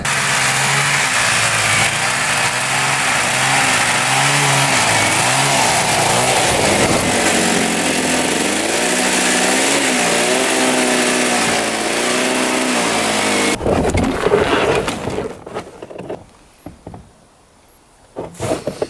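Engine of a 500cc tracked dirt bike running with a possible rattle in the clutch, a loud steady chugging idle with wavering pitch for most of the stretch, then cutting to uneven bursts and near quiet.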